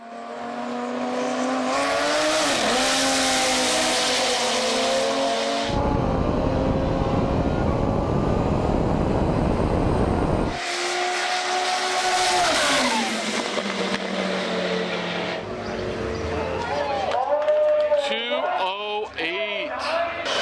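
Ex-TX2K Underground Racing twin-turbo Lamborghini Gallardo Superleggera accelerating hard at speed, with a loud rising engine roar through gear changes and a burst of wind rush in the middle, continuous and close.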